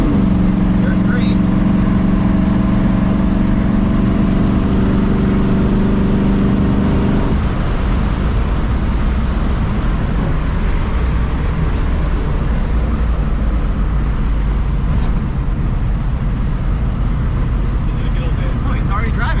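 A 1965 Ford Mustang with a 347 stroker small-block Ford V8 idling close by, a loud, continuous, rough rumble that steadies partway through; voices talk over it.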